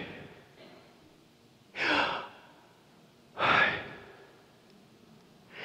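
A voice produces three breathy, aspirated exhalations spaced a couple of seconds apart, imitating the sound of deep breathing.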